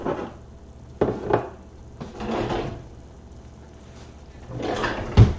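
Kitchen clatter as a cooked steak comes out of the oven: a few sharp metallic knocks of a pan and oven rack, with scraping and shuffling in between, close by and moderately loud.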